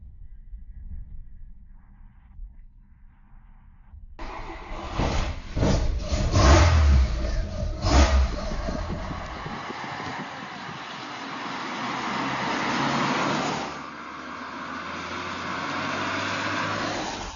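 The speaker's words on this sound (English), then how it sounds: "The car accelerates rapidly, 9 seconds to 100." A rotary-engined Soviet Lada car accelerates hard, its engine note rising and revving loudly after a quiet start, then settling into a steady drone.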